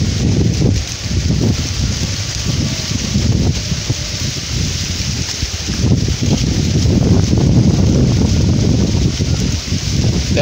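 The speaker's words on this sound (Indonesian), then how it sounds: "Gede angin euy." Strong wind roars and buffets the microphone in a loud, continuous rush that swells and eases over ten seconds, with no clear voices.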